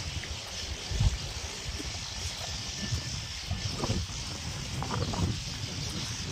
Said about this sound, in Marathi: पाण्याचा आवाज भरपूर पाण्याचा आवाज येतोय